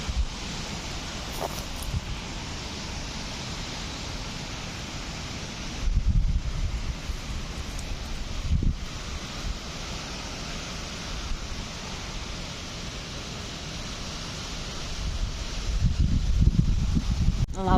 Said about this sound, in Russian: Ну, ветрюган.